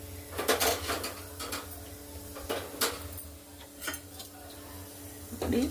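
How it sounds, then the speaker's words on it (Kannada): Cooked toor dal, radish, tomato and onion are mashed in a pot for sambar, giving quiet scattered metallic clinks and scrapes of a utensil against the pot, some a little sharper than others. "ಈಗ ಅದನ್ನು ಚೆನ್ನಾಗಿ ಬೇಳೆ ಟೊಮೆಟೊ ಎಲ್ಲನೂ ಈರುಳ್ಳಿ ಎಲ್ಲನೂ ಸ್ಮ್ಯಾಶ್ ಮಾಡಿಕೊಂಡು"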